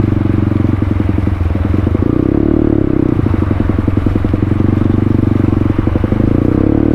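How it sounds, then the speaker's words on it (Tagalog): A motorcycle engine drones loud and close on a flooded enduro trail, with steady rapid chugging pulses and shifting throttle; an oncoming Honda TMX is crossing nearby. "may makakasalubong tayo na tumatawid na TMX"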